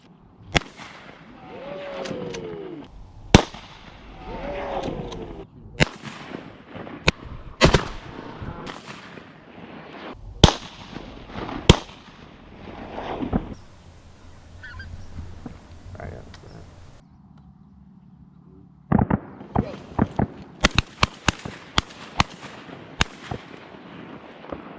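Shotguns fire during a teal duck hunt from kayaks, loud sharp blasts that come singly and in quick pairs. People talk between and around the shots.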